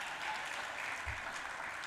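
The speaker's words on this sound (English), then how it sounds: "Please, a round of applause." Audience applause at a health conference for a deputy minister of health, a continuous even spread of clapping at moderate distance, fairly soft throughout.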